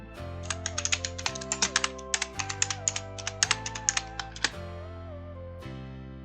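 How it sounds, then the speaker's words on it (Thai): Fingers type quick bursts on a computer keyboard while a product search is entered on an online bookstore's website, with crisp close keystrokes, short pauses and a steady tonal hum underneath. "ผมก็จะขอพิมพ์หาเลยแล้วกันนะฮะมันสะดวกกว่านะผม"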